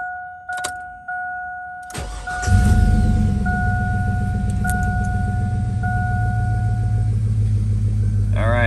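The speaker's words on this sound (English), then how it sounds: "So what I'm gonna do now is start the car." A Cadillac engine cranks and catches, settling into a steady loud idle rumble close by, with a continuous chime tone running before and through the start.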